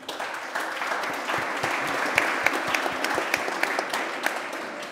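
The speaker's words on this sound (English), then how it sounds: "Big applause for Nancy." Steady audience applause for a speaker at a State of AI 2019 talk, dense and sustained with a few sharper claps standing out, no speech over it.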